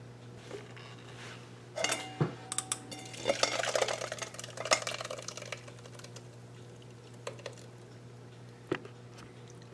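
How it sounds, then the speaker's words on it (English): Homemade sriracha sauce worked through a fine mesh strainer to separate liquid from pulp, faint scattered clinks and scraping taps, busiest in the middle, over a low steady hum. "Take a fine mesh strainer and you strain it."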